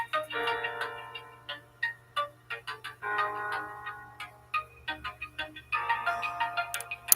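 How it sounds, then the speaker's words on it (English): A song for Obatala plays quietly, bright tinkling melodic phrases in short bursts with ticking, percussive clicks between them, fairly faint and with no voices over it. "can you hear Obatala's song?"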